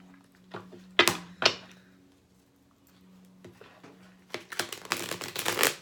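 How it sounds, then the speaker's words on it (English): A deck of tarot cards being shuffled in a few quick riffling bursts, close and fairly loud, with short pauses between them and no speech. "Do a quick shuffle."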